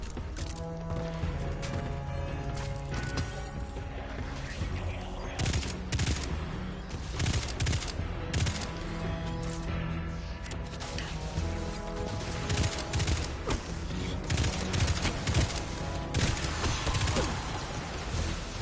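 Continuous game gunfire in Destiny 2, dense overlapping shots and impacts over a busy combat background, loud and sustained throughout.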